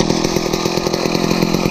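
A Jiffy Model 31 ice auger's two-stroke engine running unchoked after a pull start, a loud, close, steady buzzing drone that holds even throughout with no talking.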